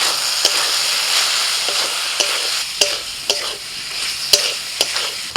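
Ground spices (cumin, coriander, Kashmiri chilli, turmeric) and salt cook in a frying pan under a steady, bright sizzle, punctuated by several sharp scrapes and knocks of a spoon stirring.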